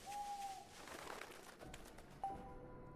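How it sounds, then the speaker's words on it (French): A bird in the video game Another Code gives two sudden hooting coos with a pause between them, set against a faint, eerie ambient background. "mais il m'a fait peur, cet oiseau de merde."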